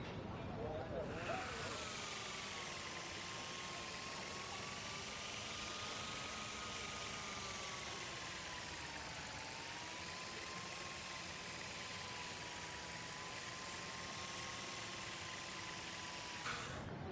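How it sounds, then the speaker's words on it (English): A small drone in the Life is Strange video game whirs around a school campus, giving off a steady, faint buzzing hum that rises and falls in pitch as it flies, with no speech. "Here, give the drone a whirl around campus."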